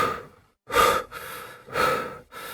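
An injured traveler pants heavily after running, with two loud, ragged bursts of breath separated by short pauses and fainter breathing between them, close and alone without speech.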